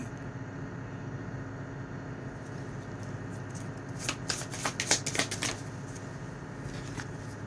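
Tarot cards being shuffled by hand, a burst of quick crisp riffling flutters near the middle over a steady low room hum, close and fairly soft with no talk.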